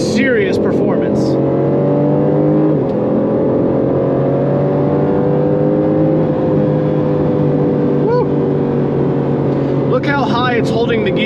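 A 2022 Aston Martin Vantage F1 accelerates hard in automatic mode, its engine droning loud and steady from inside the cabin as it rises through held gears, with brief exclamations from a person near the start and end.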